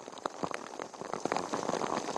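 Heavy monsoon rain near rivers in Palghar district, a fairly faint patter of drops striking surfaces, with irregular splashes and ticks over a soft continuous wash.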